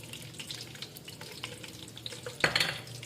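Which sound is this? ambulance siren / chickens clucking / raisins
raisins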